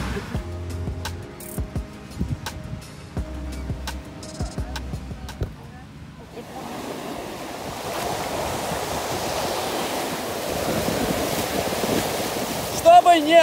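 Surf rolling onto a beach at a Turkish resort hotel, a steady broadband wash that builds after a quieter opening, with wind buffeting the microphone and some speech and background sounds early on.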